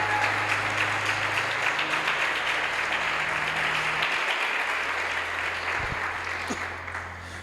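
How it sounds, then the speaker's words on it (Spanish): Church congregation applauding Jesus during a Spanish-language sermon, steady crowd clapping that holds a dense, even roar throughout with a faint low hum beneath, tapering slightly at the close. "Dale un aplauso a Jesús"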